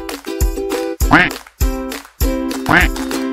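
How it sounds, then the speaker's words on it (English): A duck quacking in a bird sound sequence, with several loud, close, nasal quacks in a short uneven series, each clear and distinct against near silence. "duck, quack"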